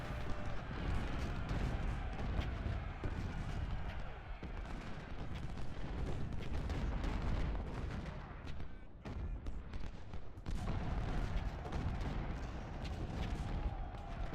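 Constant roar of artillery and musket fire from the Ultimate General: Civil War strategy game, with dense overlapping shots and booms forming a loud continuous battle wash throughout.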